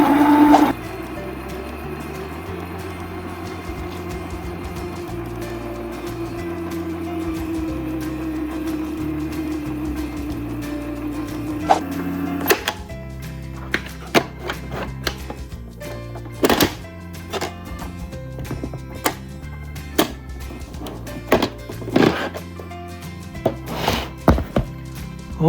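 A VHS cassette cleaner machine rewinds a cassette with a steady whirring hum for about twelve seconds, then stops with a click and gives way to scattered clunks and taps.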